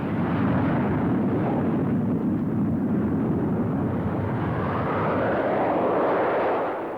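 A French Air Force aerobatic team Alpha Jet flying at an air show near the speed of sound, a loud, broad roaring rush that swells and sweeps across for several seconds before easing off.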